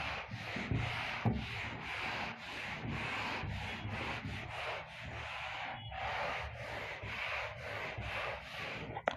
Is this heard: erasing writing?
yes